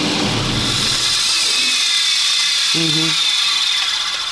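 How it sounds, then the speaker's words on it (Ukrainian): A Nissan X-Trail's clutch coupling keeps whirring after the engine is switched off: a steady, fairly loud high-pitched mechanical hiss runs throughout, with a brief low tonal hum near the end. "Це так вона муфта шумить."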